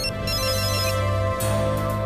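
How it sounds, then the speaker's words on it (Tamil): A mobile phone ringtone playing steadily as a melodic electronic tune, loud and continuous, in a Tamil TV serial scene. "இவங்க ஏன் ஃபோன் பண்றாங்க?"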